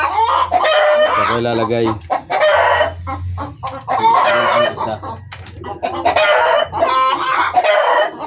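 Hens and a rooster kept in a cage cluck and squawk loudly and continuously, close by, with overlapping calls; someone talks briefly over them.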